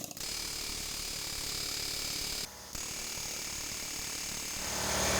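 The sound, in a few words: air hammer on seized wheel bearing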